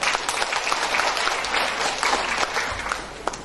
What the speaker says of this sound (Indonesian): Tepuk tangan dong teman-teman semuanya.